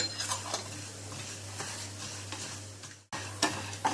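Chana dal and urad dal stir-roasted in a dry pan for sambar rice, a steady soft rustle and scrape of lentils against metal with faint crackles, close and alone with no talk.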